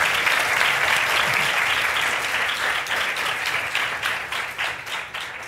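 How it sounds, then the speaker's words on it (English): A seated audience at a panel discussion on money and security design breaks into loud, sustained applause, dense overlapping clapping that carries on for several seconds and slowly thins toward the end. "A round of applause."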